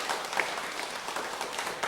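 A church congregation claps to welcome a new member, a steady, dense patter of many hands filling the room, moderately loud and close, with no voices standing out.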